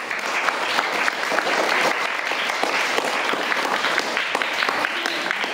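Clapping from an audience at a government high school event in Palem, where an MLA handed out desktops and printers, a loud, sustained round of applause with sharp individual claps poking through.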